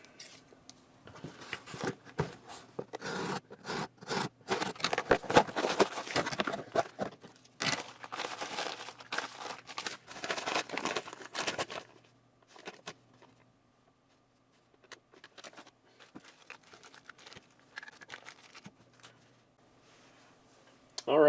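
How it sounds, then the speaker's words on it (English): A shipping package of silver bullion from APMEX being torn open, with dense bursts of crinkling, ripping and rustling paper and plastic for about twelve seconds, then sparse lighter handling noises, close to the microphone. "let's go ahead and tear into this order from APMEX and see what I got"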